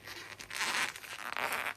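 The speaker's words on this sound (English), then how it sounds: "we are going to attempt this roll the baggie, which my plastic bag now may not be the best" A plastic bag is rolled and pressed across wet watercolor paint on paper, giving soft crinkling and rustling scrapes that rise and fade in two longer sweeps, close and fairly quiet.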